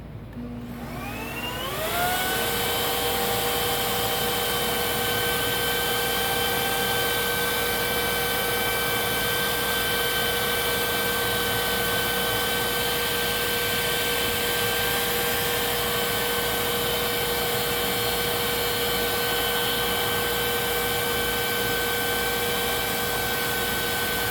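A Kenmore Magic Blue vacuum cleaner switches on at the hose and spins up quickly, then holds a loud, steady, high-pitched whine with a rushing airflow roar that runs alone for the rest of the clip.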